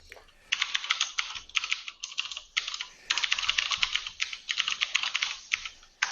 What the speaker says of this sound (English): got a mechanical keyboard.